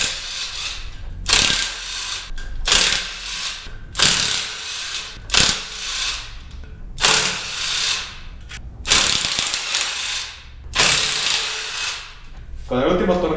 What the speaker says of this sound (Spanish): acá tenemos la pistola de impacto y vamos a empezar a quitarlos.